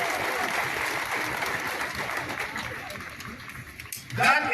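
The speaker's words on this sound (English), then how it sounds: "So let's give a round of applause for that." Crowd applause at the 2024 KOYA event with speeches by several people, a steady wash of clapping that thins toward the end before a voice cuts in.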